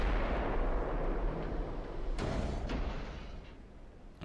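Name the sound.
naval gunfire ricochet shots in Ultimate Admiral: Dreadnoughts video game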